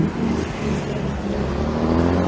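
A bus drives past on a road in Barbados, a steady close engine rumble with some revving that holds for a couple of seconds with no talk over it.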